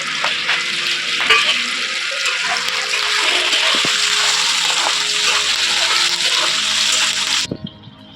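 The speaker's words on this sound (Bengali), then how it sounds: "পেঁয়াজগুলো একটু নেড়ে আমি টমেটোটাও দিয়ে দিচ্ছি।" Onions and tomato fry loudly in a pan while being stirred. A dense, steady sizzle holds for about seven seconds, with occasional utensil taps, then cuts off abruptly.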